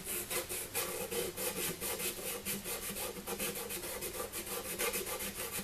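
Rapid back-and-forth scrubbing with a Scotch-Brite abrasive pad on a surface being prepared for an RC installation, a steady rhythmic rasping that fills the clip alone and up close.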